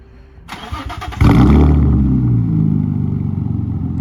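A stripped Nissan 350Z roadster with a full straight-pipe exhaust fires up, a starter whir followed by a sudden very loud, close engine catch that settles into a harsh, rumbling idle.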